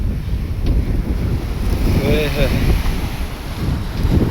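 Wind and breaking sea waves at a seashore, a steady broadband roar with gusty buffeting on the microphone throughout.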